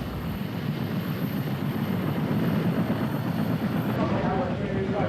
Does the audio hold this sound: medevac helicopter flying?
yes